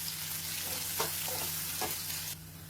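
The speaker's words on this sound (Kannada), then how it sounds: "ಚೆನ್ನಾಗಿ ಈರುಳ್ಳಿ ಗೋಲ್ಡನ್ ಕಲರ್ ಬರೋವರೆಗೂ ಈ ರೀತಿ ಫ್ರೈ ಮಾಡ್ಕೋಬೇಕು" Onions and curry leaves fry in a pan while being stirred, a steady close sizzle with a few scraping stirs, no talk.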